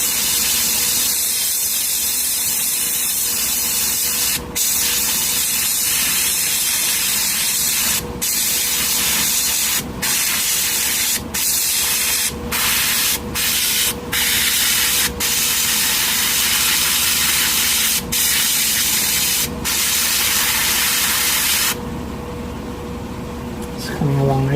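A Harder & Steenbeck Infinity CR+ airbrush gives off a continuous close hiss of spray, broken by several short pauses and quick cut-offs as the trigger is worked.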